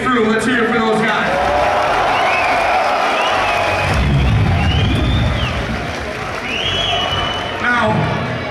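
A concert crowd at a show in Sydney's Big Top roars and applauds, loud and sustained, with shouts and whistles rising out of the clapping.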